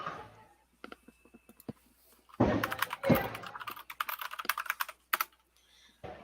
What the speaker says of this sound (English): I do hear typing.